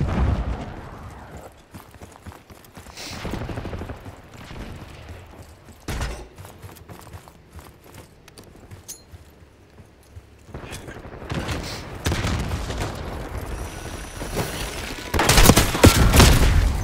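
Video game gunfire in bursts of shots, some loud and near and others quieter, separated by mechanical clatter, with a denser volley near the end and no voices.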